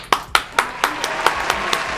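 Applause from a small group in a studio, a run of about eight sharp claps in even rhythm that gradually soften, close by, with no talking.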